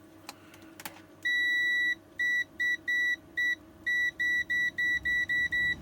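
A multimeter in continuity mode sounds off during work on a 72V 20Ah Samsung-cell triangle e-bike battery: one long shrill beep, then a run of short repeated beeps in an uneven stutter, loud and close, with a few faint clicks before them.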